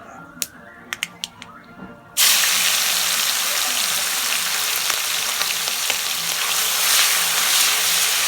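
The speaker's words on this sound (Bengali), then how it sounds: "এর মধ্যে আমরা এবার চিংড়ি মাছগুলো ছেড়ে দেব।" Prawns dropped into hot oil with bay leaf: a few sharp clinks and taps, then a sudden loud burst of sizzling that continues as a steady, intense hiss to the end.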